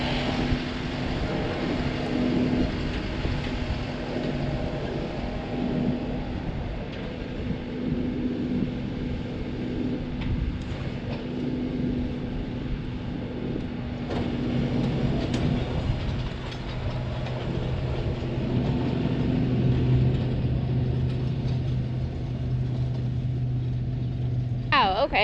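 A rental seeder pulled about ten feet across a hay field with its disc openers raised, heard as a continuous low tractor engine drone with rattling and clattering from the implement.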